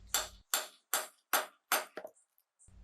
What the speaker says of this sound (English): form a step down using half face blows